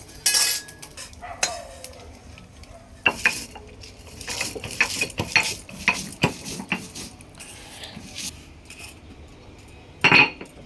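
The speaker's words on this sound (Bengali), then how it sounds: "এবারে শিলপাটায় নিয়ে নেব গুঁড়ো করে নেবো" Roasted spices are crushed on a stone shil-pata grinding slab in a home kitchen, giving irregular bursts of gritty scraping and sharp stone-on-stone clacks between quiet pauses, close by and with no talk.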